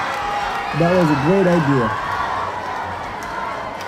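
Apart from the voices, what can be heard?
crowd cheering sound effect from a soundboard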